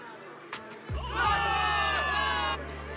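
In Zenless Zone Zero, a crowd of soldiers bursts into victory cheering after a brief quiet lull, with loud overlapping shouts and whoops that swell and then hold before tapering slightly.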